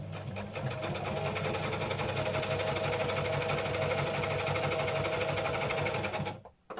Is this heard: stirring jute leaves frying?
no